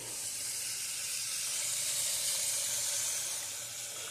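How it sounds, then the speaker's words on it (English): Chicken roasting in an electric cooker gives off a steady, close hiss of steam and sizzle that holds evenly for the whole stretch, with no voices. "You can hear it steaming and sizzling."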